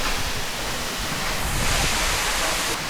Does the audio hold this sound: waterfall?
yes